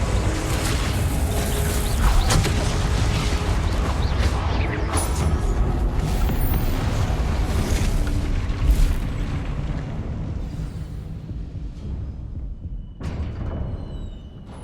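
Spell blasts and explosions from combat in the video game Hogwarts Legacy, a dense, loud stream of booming impacts and bursts with sharp transients that continues throughout, easing slightly near the end before a final burst.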